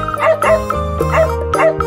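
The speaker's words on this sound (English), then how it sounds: "D for dog" A dog gives a quick series of four or so short barks and yips, close and loud, set against a bright children's alphabet song accompaniment.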